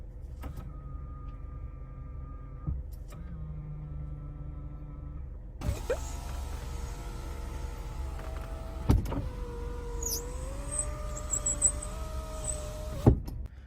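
Power-folding side mirrors on a used Hyundai Avante HD, two separate whirring motor runs with clicks at start and stop, followed by a longer mechanical whine with a few knocks, recorded close and without talk.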